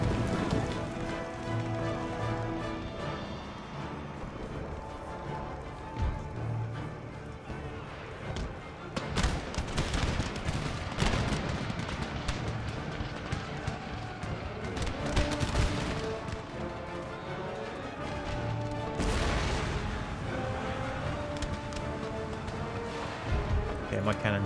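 Cannon batteries in Empire: Total War, Prussian army at Mysore: dense, continuous battle din with repeated booming volleys and crackling musketry layered throughout.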